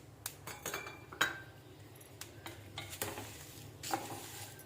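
Cumin seeds for idli podi go into a pan, with faint dry rattling, scattered light clinks and scrapes, and a soft sizzle in a quiet kitchen.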